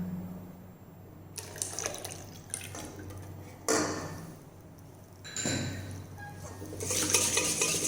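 Buttermilk is poured into chocolate loaf cake batter in a bowl, making a close, gentle liquid pour and splash in several bursts that grow slightly louder toward the end.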